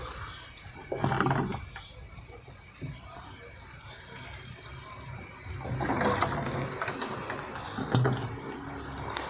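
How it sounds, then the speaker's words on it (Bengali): Water poured from a watering can onto a potted rose, a steady splashing wash that swells in louder bursts near the start and again toward the end. "ঝাড়ি থেকে জল দিচ্ছি গোলাপে"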